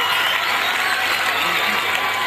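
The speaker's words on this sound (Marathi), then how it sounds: "पालकांसाठी आपण जोरदार टाळ्या मारणार आहोत" Children at a school Parents Day in Uttan applaud loudly for their parents, a dense, steady wash of clapping that fills the hall without pause for a couple of seconds.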